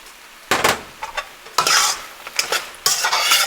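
A spoon stirring salsa verde in a cooking pan, giving several scraping, clinking strokes over a soft sizzle, loud and close, separated by brief pauses.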